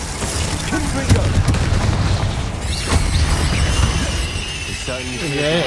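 Confringo spell explosions in the Hogwarts Legacy video game, repeated booming blasts and crackling bursts amid busy combat noise, with speech mixed in.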